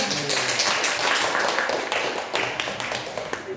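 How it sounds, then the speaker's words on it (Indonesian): A university micro-teaching class breaks into applause: dense, bright hand claps from many students fill the room continuously, fairly loud, with a few sharper claps near the end. "Tepuk tangan."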